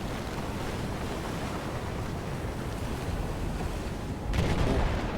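A steady roar of stormy wind and rushing surf in the video game Battlefield 4, dense and unbroken, with a sudden swell in intensity near the end.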